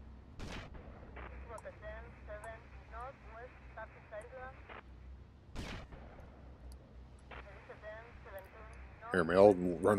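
Two loud, sharp shotgun blasts from GTA Vice City, about five seconds apart, each separated by stretches of talk over faint game background, with a burst of noisy action at the very end.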